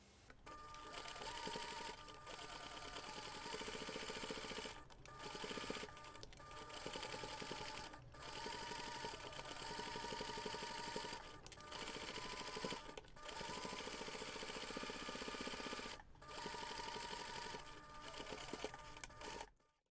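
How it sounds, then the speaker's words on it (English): A sewing machine sews the seam around a pencil pouch with a continuous rapid mechanical whir, broken by a few brief pauses, close and steady throughout. "Then we're going to take this to the machine and sew the seam all around using 1 centimeter seam allowance."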